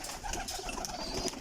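Pigeons in a loft coo softly and repeatedly in a quiet, close chorus of short, overlapping calls.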